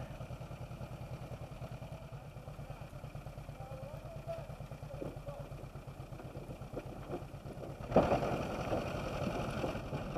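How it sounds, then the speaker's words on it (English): A steady, low chugging tractor engine idles throughout, its rhythm unbroken, then grows louder and rougher near the end as it works harder in reverse. "Then throw the tractor in reverse"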